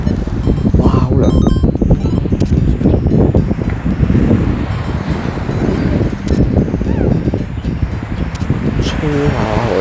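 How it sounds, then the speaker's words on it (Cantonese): Sea breeze sweeps the shore at Cheung Chau, buffeting the microphone in a loud, continuous low rumble that barely lets up for the whole stretch. "咁早吹下海風先"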